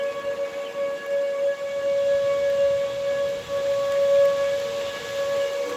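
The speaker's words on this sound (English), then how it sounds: "This is the first time we've heard the sirens this year" Tornado warning sirens sound across Tulsa as one steady, sustained wail that rolls on without a break, with a faint patter of rain underneath.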